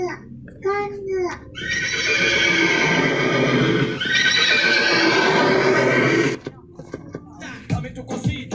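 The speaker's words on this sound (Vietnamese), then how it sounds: "Con ngựa." A horse gives a long, loud whinny that rises and wavers for several seconds close by at a fair, followed by short snorts and scattered noises, with a voice briefly heard nearby.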